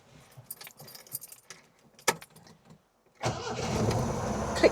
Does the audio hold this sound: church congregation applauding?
no